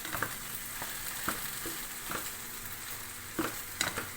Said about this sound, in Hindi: अच्छी तरह फ्राई हो गया।